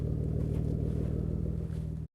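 Steady, deep engine rumble with throaty exhaust from a 1987 BMW E30 325iX, held at a constant idle-like revving, close and loud, cutting off abruptly at the end.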